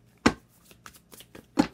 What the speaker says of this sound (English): Get three shuffles.